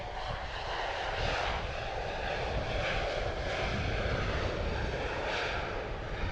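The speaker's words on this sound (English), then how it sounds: "Pretty loud. An A320." An Airbus A320 airliner passing near a busy cargo airport, a broad, steady jet roar that holds loud throughout with a slight swell, heard alone without talk.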